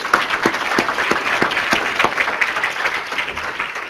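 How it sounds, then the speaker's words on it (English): Applause from a conference audience after a session of lightning round talks at an environmental science forum, a dense burst of clapping with a few distinct close claps that fades slightly toward the end. "Can we get one more round of applause for all of our lightning round talks?"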